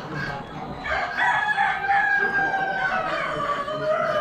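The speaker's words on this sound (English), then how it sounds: "Another group of hens." Chickens at an Amish animal auction, with a rooster crowing in long drawn-out calls over steady clucking and barnyard murmur, close and continuous throughout.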